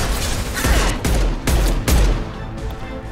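Loud bursts of gunfire in the video game Mass Effect 2 crack in quick succession, several sharp shots close together, with a steady noisy rumble underneath.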